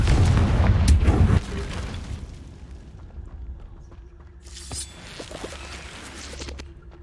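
Confringo fire spell exploding in the Hogwarts Legacy video game, a heavy booming blast up front that decays into quieter crackling and scattered small pops, with no talking.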